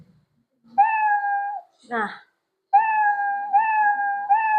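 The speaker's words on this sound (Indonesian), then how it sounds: "Kemudian di bawah sini ada mainkan suara meow." The Scratch app's built-in cat meow sound effect plays loudly and cleanly several times in a row, a short spoken word briefly breaking in between the first and second meows.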